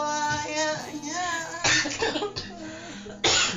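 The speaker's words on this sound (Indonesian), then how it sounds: "Jadi batuk kan takut." Two or three sharp, close coughs break in loudly after a stretch of singing-like voice, each a short harsh burst, with a brief throat-clearing feel.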